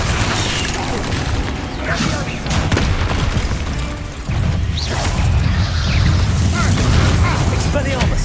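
Bombarda explosion spell cast in Hogwarts Legacy, dense booming blasts and whooshes layered with other combat spell effects, loud and continuous, with a voice shouting spell names over the action.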